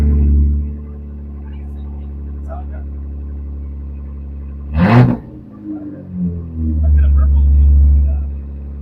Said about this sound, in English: new Flowmaster exhaust, sounding very decent, sounding very threatening